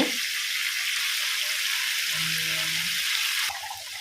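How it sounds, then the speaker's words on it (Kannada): Bondas fish fry in plenty of oil in a pan, giving a close, steady crackling sizzle that continues evenly, with a brief low hum midway and a slight drop in level near the end. "ಫ್ರೈ ಆಗಲಿ ಎಣ್ಣೆ ಸ್ವಲ್ಪ ಜಾಸ್ತಿ ಇದಕ್ಕೆ ಎಣ್ಣೆ ಕಡಿಮೆ ಆದರೆ ಸೀದೋಗ್ತದೆ"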